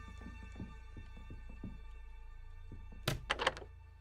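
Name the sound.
stuck fridge door thudding, from video game Look Outside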